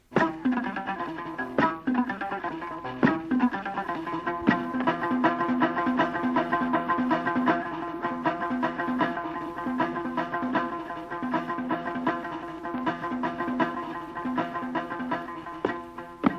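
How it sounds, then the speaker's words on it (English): A Mauritanian tidinet, a four-string lute with a skin-covered wooden sound box, plays a steady, repeating melodic pattern with sharp plucked attacks, continuous and fairly loud throughout, with no voices. "The tidinet, which appears to be reserved for men, is a 4-string lute"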